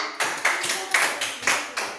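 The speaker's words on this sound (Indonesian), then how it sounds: "tepuk tangan untuk Mumtazah" Children in a classroom clap together for a classmate, a quick, rhythmic run of about eight sharp group claps, close and clear with no talk.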